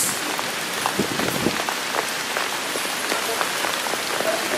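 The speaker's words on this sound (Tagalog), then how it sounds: "Silong muna kasi malakas ang ulan." Heavy night rain pours steadily on a street-food boulevard in Surigao City, Philippines, a dense hiss of drops drumming on a surface, close and continuous.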